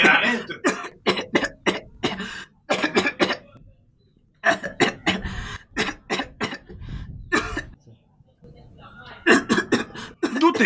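Repeated coughing fits in bursts, loud and close, mixed with throat clearing, set in a tense home quarantine scene during an Ebola scare.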